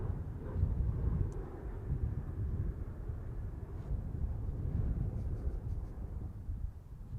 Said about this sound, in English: It's actually quite a good takeoff, honestly.